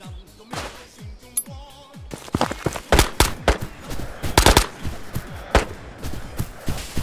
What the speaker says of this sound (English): Shooting at something